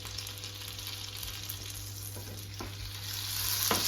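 Butter melting into hot oil beside keşkek, a Turkish wheat-and-meat dish, giving a steady low sizzle and crackle with a few sharp pops near the end, no talking.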